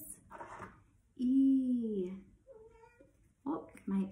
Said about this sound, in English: Oh, my kitty cat is saying hi.